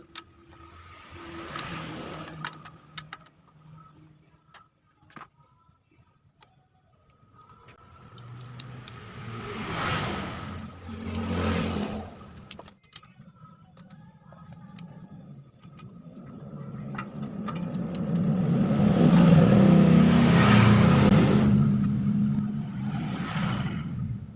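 A Yamaha Vega ZR motorcycle with an engine knocking fault revs up and down in repeated swells, building to a louder, sustained rev near the end, with light metallic clatter and rattles between the bursts.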